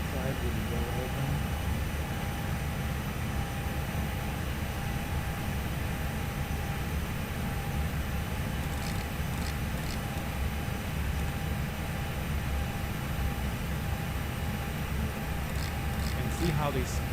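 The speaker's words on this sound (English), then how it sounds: "You can hear the packs also from the outside with the door open." Airbus A321 air-conditioning packs heard from outside with the cabin door open in a simulator sound pack: a constant broadband rush with a thin whine and a few faint clicks near the end.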